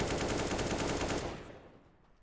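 An AK rifle in CS:GO fires a rapid, loud automatic burst, its shots running together before cutting off into a short fading tail.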